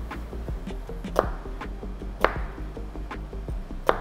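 A sharp kitchen knife slices an onion into very thin strips on a board, producing a steady run of quick, light chopping taps with a few sharper, louder knocks, close up and with no voices.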